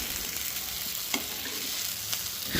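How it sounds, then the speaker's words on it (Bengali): Pomfret fish frying in a pan, a close, steady oily sizzle with a couple of brief knocks as it is turned. "তারপর ভালো করে উল্টে পাল্টে ভেজে নিতে হবে।"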